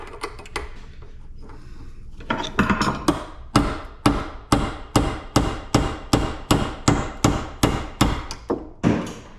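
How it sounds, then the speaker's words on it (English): Hammer blows strike scrap metal to break a weld, about sixteen sharp, evenly spaced metallic hits ringing out loud and close after a few scattered knocks. "Gotta try to break this weld right here."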